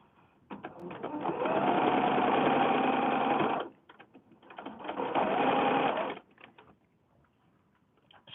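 Sewing machine stitching quilt swap blocks for a mini wall-hanging quilt, two loud close bursts of rapid whirring stitching of about three seconds and under two seconds, separated by brief pauses with small handling clicks.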